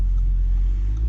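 Audi RS3 Sportback 2018 five-cylinder engine heard from inside the cabin on the autobahn, a loud, steady low burbling drone with no break.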